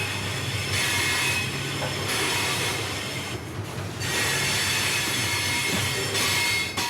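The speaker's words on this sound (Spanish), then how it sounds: "Media hora después están a bordo de otro tren." A train rolling along rails, heard from aboard inside a crowded carriage: a loud, steady rumble with hissing, rattling, and swelling high wheel squeal that rises and falls across the stretch, with no voices.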